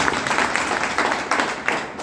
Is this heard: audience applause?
yes